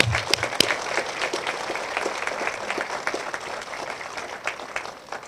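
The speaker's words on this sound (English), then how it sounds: "So I want to give all of them a round of applause for me." An outdoor crowd applauds at a public library ribbon-cutting ceremony, with loud, steady clapping throughout and a few sharp, prominent claps standing out close by.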